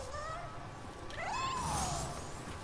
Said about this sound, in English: There's a little kitty.